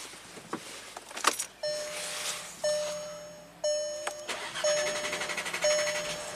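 A Volkswagen GDI car engine cranks for a long time with its high-pressure fuel pump unpowered, as a chime and other dashboard tones sound and a starter whirs in rapid, rhythmic pulses without the engine catching.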